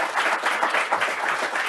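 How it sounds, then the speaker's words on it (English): An audience claps for a panel at an energy policy event, a loud, even round of applause from many people that continues without talk. "I think they all deserve a nice round of applause for joining us today."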